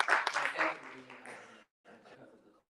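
Audience applause at a State Black, Puerto Rican, Hispanic and Asian Legislative Conference, a dense wash of clapping that swells loudly at first, thins out, breaks off briefly and returns more softly before fading.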